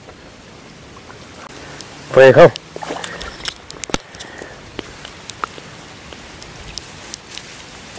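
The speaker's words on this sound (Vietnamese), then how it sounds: "Giờ bắt đầu có mưa." Light rain patters on surfaces beside a fishing lake at Hồ Việt Nguyên, steady and soft, with scattered drops and handling clicks; someone talks briefly and a loud burst of speech interrupts.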